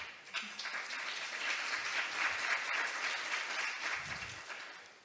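A conference audience applauds steadily, a dense wash of clapping at moderate volume that holds for several seconds without letting up.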